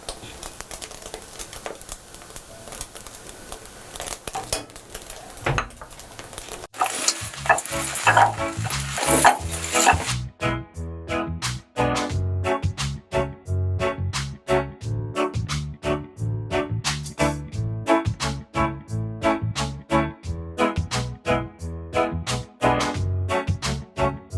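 A pan of well-cooked garlic sizzles and crackles as paste is stirred in for a Bolognese sauce. Sharp frying noise opens the scene, then a rhythmic, beat-driven music track takes over and plays over the cooking.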